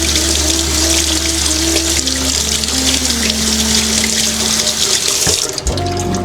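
Cold tap water runs steadily into a kitchen sink while strawberries are rinsed, a close, continuous splashing rush with a faint tonal hum underneath that ends abruptly as the faucet shuts off near the end.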